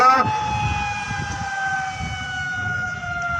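Fire engine and ambulance sirens wail in long, steady tones at a police lines mock drill, loud and close, with people talking beneath them.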